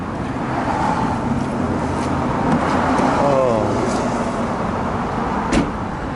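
A truck engine runs nearby with a steady low rumble throughout, under indistinct talk and a few light knocks.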